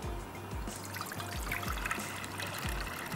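Roughly two glasses of water are poured while preparing a rice dish, making a continuous close trickle and splash with a gurgling rhythm throughout and no talking.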